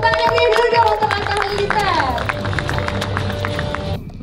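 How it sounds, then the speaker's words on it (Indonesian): An audience claps for Atta Halilintar at the launch event of his football club, AHHA PS Pati FC, with busy crowd clapping and babble under loud voices and music. "Silakan, tepuk tangan yang dulu dong untuk Atta"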